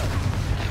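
A Confringo explosion spell cast in the Hogwarts Legacy video game, heard as a continuous low rumbling blast with a dense, noisy roar that stays loud through the whole short burst.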